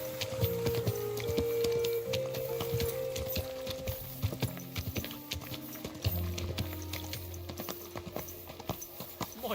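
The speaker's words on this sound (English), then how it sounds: "My, oh, beautiful horse." Horse hooves clip-clopping at a slow walk in the medieval video game Kingdom Come Deliverance 2, a steady close rhythm of sharp knocks over ambient background and low tones.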